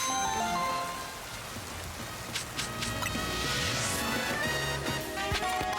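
Steady rain falling in the video game Pokemon Legends: Z-A, a continuous wash of patter and drips with occasional sharper splashes over game music, no talk.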